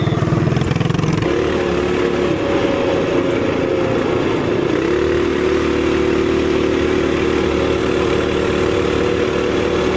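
A TrailMaster MB200 minibike engine runs loud and close with a surging top end, its buzzing drone rising and settling in pitch as the revs climb and hold steady, with no voices over it.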